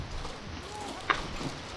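Horse hooves clip-clop in the medieval combat game Mordhau: a few light, close hoof strikes with one sharp click, under faint voices.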